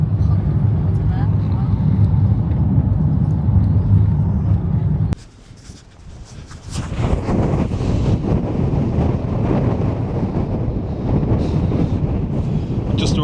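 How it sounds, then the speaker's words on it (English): Strong gusts batter the microphone at Dunnet Head, the northernmost point of mainland Scotland, a loud roaring rumble that drops briefly before surging back, with a person talking over it. "it is really windy here."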